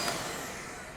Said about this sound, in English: jar some of this stuff loose and vacuum it out